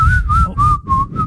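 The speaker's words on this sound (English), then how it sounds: "I like to whistle." A person whistles a clear, sustained tune made of five steady tones with short breaks between them. It is close and loud against a low background rumble, and nobody speaks.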